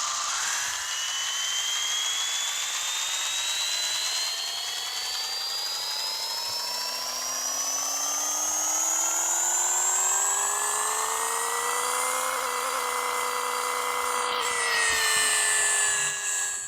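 LS engine swapped into a car in Pixel Car Racer revs up in one long, steadily rising whine with layered harmonics, briefly dipping near the end before climbing again, loud and alone.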